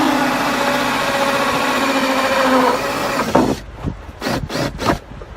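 A 2-inch hole saw cuts a hole sized for 1.5-inch drain pipe, a steady whirring grind that runs loud for about three seconds, then breaks into short bursts as the drill starts and stops.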